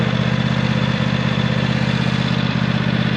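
A small tractor engine runs steadily under load while stuck in deep snow, a loud, close, low droning rumble with a constant throbbing pulse and no change in pace.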